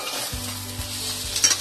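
Spice paste for Bengali mutton curry frying in a pan while being stirred, with a close, steady sizzle and a few scraping stir strokes near the end.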